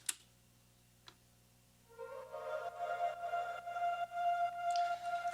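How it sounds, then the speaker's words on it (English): A soft, sustained choir pad from the Foundation's Emotive Choir Kontakt instrument swells in after a couple of faint clicks. It is a quiet layered vocal tone that rises and falls gently as part of a house track. "So I have this choir here"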